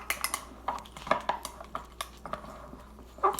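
A utensil clinks and scrapes against a bowl while cheesecake filling with unflavored gelatin is mixed for a microwave cheesecake, giving irregular light taps and knocks, fairly close and moderately quiet.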